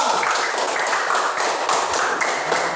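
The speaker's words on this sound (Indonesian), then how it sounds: "tepuk tangan untuk kelompok 2" A class applauds a student group after its answer, a dense steady patter of many hands clapping close by, without pause across the moment.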